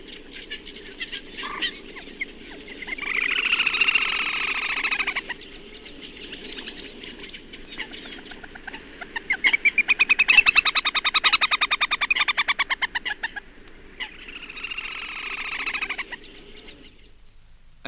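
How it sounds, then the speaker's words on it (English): Two little grebes trill in rapid, high, chattering bursts over a gravel pit, three long runs of trilling separated by pauses. A moorhen calls faintly in the background under a steady low hum. "here are two trilling away with a moorhen in the background"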